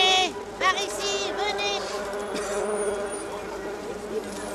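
Flies buzz around strawberries at an outdoor market stall, several overlapping insect drones rising and falling close by, with voices talking in the background.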